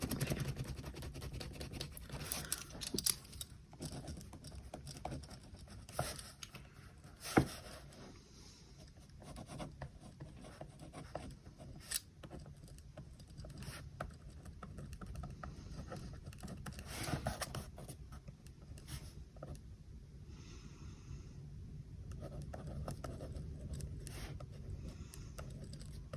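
Friction pen writing on paper in a planner, a quiet steady scratching and rubbing of the tip across the page, close and soft, continuing with small pauses and a few sharper strokes.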